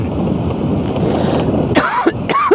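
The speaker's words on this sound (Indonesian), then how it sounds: "Batuk saya makin jadi malam begini" A man riding a motorbike at night in Balikpapan coughs twice near the microphone, two harsh bursts late in the clip over steady wind and road noise.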